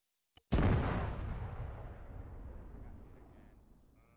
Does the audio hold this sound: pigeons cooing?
no